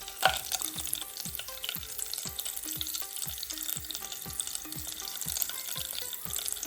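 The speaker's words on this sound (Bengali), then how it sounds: "এলাচ, দারচিনি, লং সব কিছু ঢেলে দিব এখন" Whole garam masala spices, cardamom, cinnamon and cloves, fry in hot oil with a continuous crackling sizzle and rhythmic stirring scrapes, close and steady throughout.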